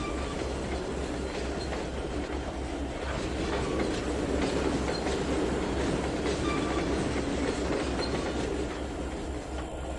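A freight train in the Trainz 2019 railway simulator rolls steadily along the tracks, hauling oil cars, with a continuous rumbling drone and faint rhythmic clacking of wheels, loud and close throughout.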